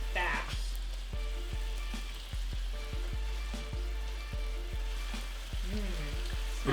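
Thin-cut ribeye for Korean bulgogi sizzles steadily in a hot pan, a continuous close frying hiss with crackles and light clinks of a utensil, no talking.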